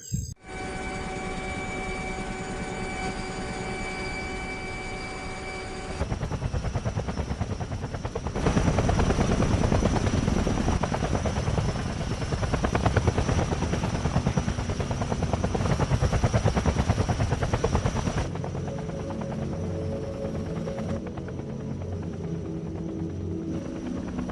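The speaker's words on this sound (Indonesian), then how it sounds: "helikopter yang mereka tunggu pun datang" A helicopter's rotor thumps loudly and steadily, growing heavier as it nears, with a whining engine tone throughout and no voices.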